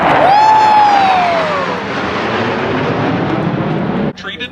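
A military fighter jet flies over a Talladega race, a loud roaring rush with a sweeping whine that falls in pitch as it passes, fading into crowd noise before cutting off abruptly.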